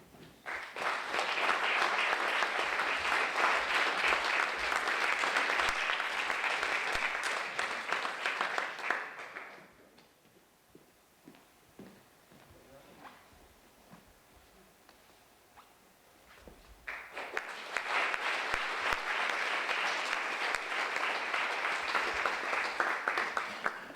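An audience claps at the Zlate petice 2023 awards ceremony in Ravne na Koroškem, with a long burst of dense applause, a quieter lull with scattered claps and small sounds, then a second strong round of applause.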